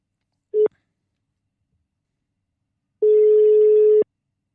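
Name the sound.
telephone ringing tone while placing a call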